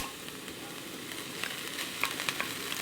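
Cooked rice added to a hot pan with chopped garlic, giving a steady soft frying sizzle with a few sharper crackles and pops toward the end, close and without talk.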